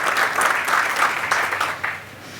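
Audience at a welcome and opening remarks session clapping in a short, lively burst, loud and close at first with distinct surges before tapering off toward the end.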